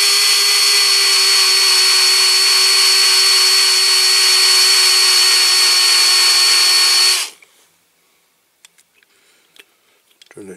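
A small drill whines loudly and steadily for about seven seconds while drilling out a rivet on a Siku Magirus Deutz toy concrete mixer, then stops, leaving faint clicks and handling noises.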